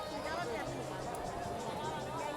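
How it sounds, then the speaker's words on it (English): Street crowd hubbub in Lima, Peru: a dense, steady wash of many overlapping voices close by, with no single speaker standing out over the continuous babble. "Look at this crowd."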